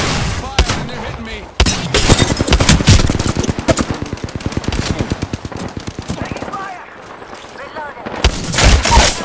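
A rapid, loud, close-range burst of automatic gunfire rattles through a video game firefight, with dense rhythmic shots nearly continuous across the stretch, a brief lull, then heavy firing again, while a voice calls out over it.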